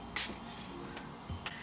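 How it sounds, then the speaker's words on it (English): Makeup setting spray, an oil-control mattifying fixing mist, hisses in one short, fairly loud burst near the start, followed by a fainter second puff later, with no talking. "you need to go ahead and spray with the fixing spray, the oil control or mattifying fixing spray, setting spray, one more time."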